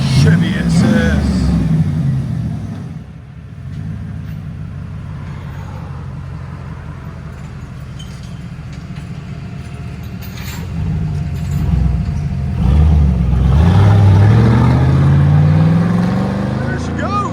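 A straight-piped Chevy Silverado SS with a 6.0L V8 pulls away: a loud, rumbling exhaust dips and then swells into a rising, accelerating roar near the end, with people talking over it.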